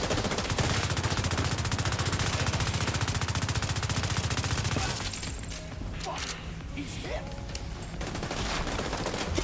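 Sustained rapid turret gunfire in The Division 2 pounds loudly and continuously for about five seconds, then drops to quieter scattered shots and clatter with faint voices underneath.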